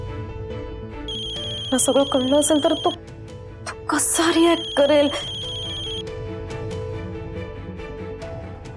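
An incoming-call ringtone on a mobile phone in a Marathi TV drama scene sounds in two bright melodic bursts, interrupted by close dialogue.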